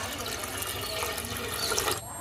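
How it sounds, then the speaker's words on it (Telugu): Water is poured into a pot of spiced country chicken curry in a home kitchen, a short, continuous splashing trickle that ends abruptly. "కొద్దిగా వాటర్ యాడ్ చేసుకుందాం."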